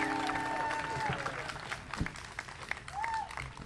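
A crowd at a baseball event for the Red Sox in Pittsfield applauds and cheers in a rising and falling wash, with a voice shouting over it and a few whistles.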